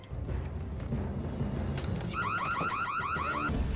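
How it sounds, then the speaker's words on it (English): Car alarm going off in a TV show, starting midway as a loud, rapidly warbling electronic siren that repeats in fast cycles over a noisy background rumble. "So they planned for obviously setting that alarm off"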